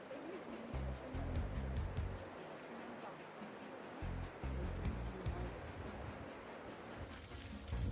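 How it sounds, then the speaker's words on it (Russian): Cascading waterfalls along the Svanidze stream near Sochi: a steady, broadband rush of falling water close by, with low rumbling surges and no talk. "Купели, каскады водопадов"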